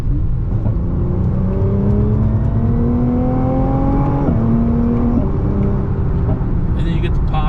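A Nissan GT-R accelerates hard in R mode, the engine note climbing through the revs with a whirring rise and a gear change midway, loud and close, followed by a few crackling pops from the exhaust.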